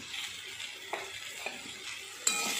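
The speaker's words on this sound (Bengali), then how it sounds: "দিয়ে আবার কিন্তু নাড়াচাড়া করে নিচ্ছি একটু।" Salted small fish, bitter gourd and eggplant with salt and turmeric sizzle in a pan, with a continuous hiss broken by a few soft spatula scrapes and a sharper clink near the end, close up and without talk.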